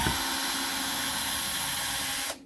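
A power screwdriver undoing long set screws on salvaged e-waste gives a close, steady high whir for about two seconds and then cuts off abruptly.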